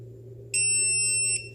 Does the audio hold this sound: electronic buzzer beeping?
yes